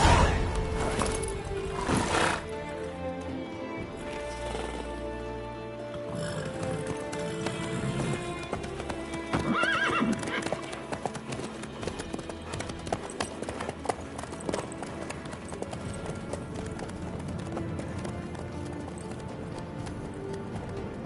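Horse hooves clip-clop steadily at a trot or gallop across the whole stretch in the Witcher 3 video game, close and rhythmic, with game ambience and a brief voice near the start.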